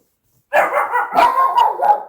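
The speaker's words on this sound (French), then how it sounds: "petite interruption des chiens" Several dogs bark loudly and close by inside a home during a Christmas card-making session, overlapping barks and yips starting abruptly and continuing in quick bursts for about a second and a half.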